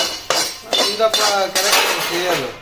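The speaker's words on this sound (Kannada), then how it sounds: "ಚೆನ್ನಾಗಿ ಬೆರೆಸ್ಬೇಕು" A spoon stirs moong dal payasa in a metal pot, making several close, bright clinks and scrapes against the pot in an uneven rhythm, with no one talking.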